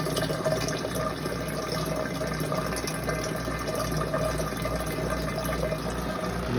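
Water drains steadily from a machine in one continuous rushing, gurgling wash, loud and close, with no pauses and no voices.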